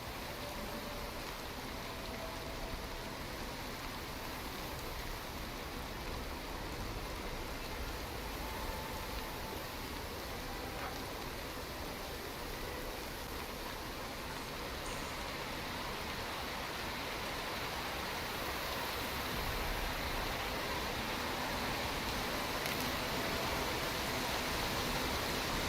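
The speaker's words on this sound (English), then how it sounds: "It's raining really bad here in Earth." Steady, dense hiss of heavy rain pouring without letup in the video game Horizon Zero Dawn, even and unbroken throughout, with no voices.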